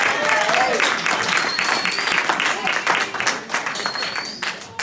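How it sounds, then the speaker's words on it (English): Audience applause at a talk, with steady dense clapping from a crowd throughout, fairly loud and close, and faint voices and whistles mixed in. "let's give me a little round of applause"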